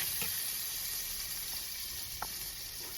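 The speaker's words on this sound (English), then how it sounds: "And I'm frying up the saltfish." Saltfish fries in olive oil in a pot with a steady, faint sizzling hiss, broken by a few soft pops and light clinks, and no voices.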